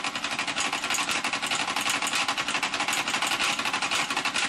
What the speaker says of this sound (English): I think the crank is hitting the bearing